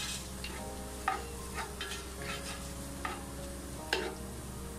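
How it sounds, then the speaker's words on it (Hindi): Black pepper and minced beef fry in a pan with a steady soft sizzle, broken by occasional scraping and stirring clicks, no talking. "काली मिर्च, थोड़ा सा ये वक्त फ्राई हो जाए"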